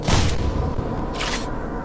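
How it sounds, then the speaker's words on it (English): A car blows up in the video game Manhunt 2: a sharp, heavy boom at the start, then a rumbling tail and a second burst of noise about a second later. "The car just exploded on my front, you kidding me?"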